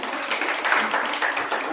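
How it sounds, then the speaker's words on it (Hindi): A church audience at a Good Friday fellowship gathering claps together in a dense, fairly loud burst of applause that carries on evenly throughout. "ताली बजाएंगे पूरे"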